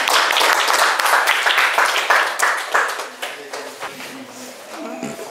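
Classroom applause after a student group's presentation, a dense burst of many hands clapping that fades away over several seconds, with voices emerging as it dies down.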